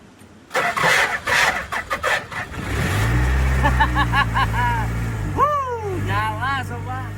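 A 1948 Jeep Willys Overland fitted with a Toyota 14B engine cranks in several uneven bursts, catches, and settles into a close, rumbling idle with a couple of revs, while someone talks over it.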